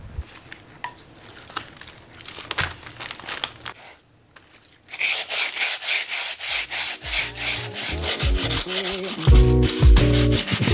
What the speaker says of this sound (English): I'm gonna be just doing some light sanding